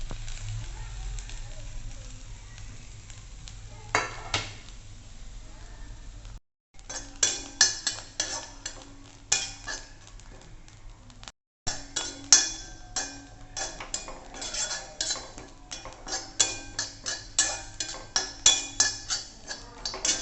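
Grated coconut, curry leaves and onion roasting in hot oil in a pan, with a utensil stirring and scraping through it: irregular metallic clinks and scrapes over a steady low hiss, fairly close and continuous.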